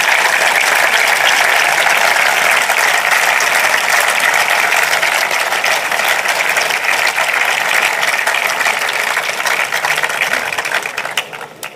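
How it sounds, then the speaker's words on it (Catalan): Loud, dense applause from the audience at a political campaign rally, a continuous roar of clapping that holds steady for most of its length before slowly fading toward the end, with no talk over it. "Demano per ells un fort aplaudiment de reconeixement."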